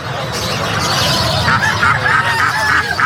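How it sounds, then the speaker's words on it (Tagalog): Geese at a poultry seller's yard honk repeatedly in a short, nasal series, fairly close and loud, over a busy background murmur of other fowl and farm noise. "mga gansa naman."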